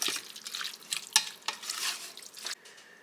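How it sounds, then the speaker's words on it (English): Chopped pepperoni, salami and prosciutto stirred in a pot, giving light scraping and faint sizzling scrapes with a few sharper clinks, soft and close, no talking. "I'm going to get that stirred up in there"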